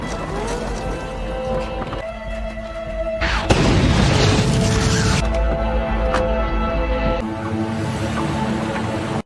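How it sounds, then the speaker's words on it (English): A deep explosion from a detonated substance in a film thunders in abruptly, a heavy low boom that swells and rumbles on for several seconds before dropping away, with lingering background ambience around it. "The substance is detonated once they are sufficiently removed."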